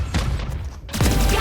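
Tejo's missile barrage in Valorant lands as a dense cluster of thudding impacts and booms, loud and close, with a brief lull before a second burst of blasts.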